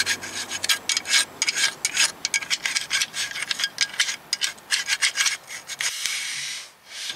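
A hand file scrapes rust and scale off the rear wheel bearing area of a 2005 Lexus ES330, giving close, loud, rhythmic rasping strokes in quick succession, then a short pause and a final longer rub.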